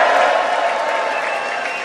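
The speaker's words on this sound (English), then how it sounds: "after three, we're all going to make a big cheer" A crowd on a campus cheers together on cue at an event with boxer Anthony Joshua, a loud, steady roar of many voices that holds for the full stretch and fades only slightly toward the end.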